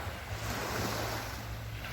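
Surf washing onto Hat Sai Kaew beach in Sattahip, Chonburi, heard as a steady broadband wash of waves with a low rumble and some wind, continuous and moderately distant, with no voices.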